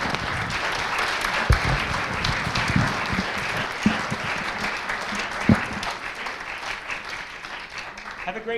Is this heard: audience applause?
yes